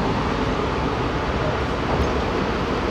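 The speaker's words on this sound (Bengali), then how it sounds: "ট্রেন কিন্তু আবার ছেড়ে দিয়েছে, এবার কিন্তু ডাইরেক্ট কৃষ্ণনগরে দাঁড়াবে" A Sealdah–Krishnanagar AC local train runs at speed after leaving a station, heard as a loud, steady, broadband rumble and rush of wheels and air that continues without a break.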